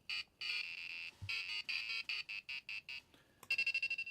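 A small buzzer on a microcontroller board emitting VIC-20 style electronic beeps and tones in rapid pulsed bursts, shrill and fairly quiet, ending with a quick string of short beeps.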